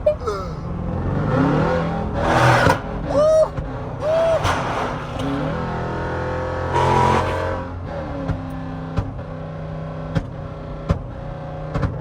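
A 5.7-liter Jeep Summit on the freeway, its engine humming and swelling as it revs and accelerates, with sharp pops at intervals toward the end. Someone talks over it now and then.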